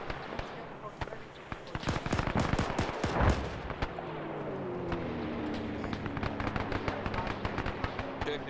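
Rapid bursts of gunfire and heavy booming explosions from a bombardment in a WW2 video game set at the Battle of Tarawa, sharp cracks in clusters with a rumbling blast midway, voices talking underneath.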